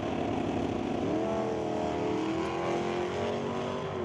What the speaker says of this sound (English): GT Mustang with 500 plus cubic inches under the hood of that 66 model.